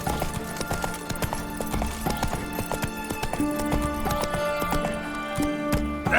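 Roach the horse galloping in The Witcher 3, hooves beating a steady rapid clip-clop rhythm up close, with music and game ambience running underneath.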